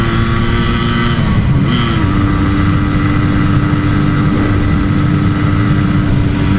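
A 1984 Yamaha RS 125 two-stroke motorcycle engine running steadily while being ridden, a loud continuous buzzing drone with a slight pitch shift partway through and no talk over it.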